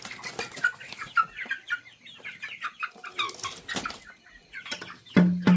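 Chickens newly bought for raising cluck and chatter in a repeated, close run of short calls, with rustling and a loud thump near the end.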